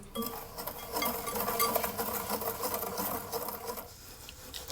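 Pineapple upside down dessert mixture being stirred in a pan, a steady scraping and clinking of utensil against metal that runs continuously and fairly close, fading slightly at the end.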